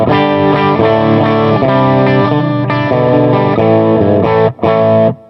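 Electric guitar played through a GigRig Wetter Box, a clean tone and a distorted tone blended in parallel, with loud sustained chords and single notes, thick with effects, and a brief cutout near the end.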